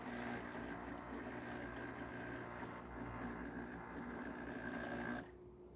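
Jura Impressa A9 espresso machine with a new brew unit pouring a test shot after a full tune-up: a steady low mechanical pump hum with faint tones, running evenly and then cutting off abruptly near the end.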